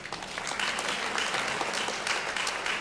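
An audience claps in answer to a question about women's sports teams, a steady, even burst of many hands clapping at moderate volume.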